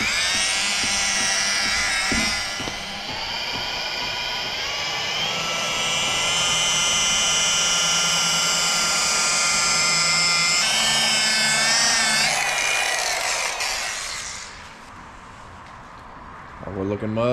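A rotary polisher buffs the clear coat on a custom-painted car, its high motor whine rising and holding for about twelve seconds before winding down, with people talking beneath it.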